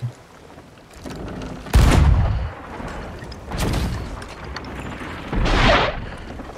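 Three booming video-game cannon blasts go off a couple of seconds apart, deep and rolling, over a constant noisy background with no talking.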